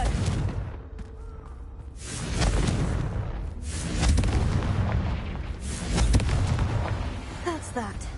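A Confringo fire blast spell in the Hogwarts Legacy video game bursts in heavy booming explosions that swell and roll several times, with a voice speaking over the blasts.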